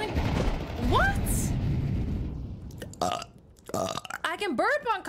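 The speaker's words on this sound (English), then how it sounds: "I can burp on command." A man lets out a long, loud, rumbling burp that fills the opening seconds, followed by excited talking from him.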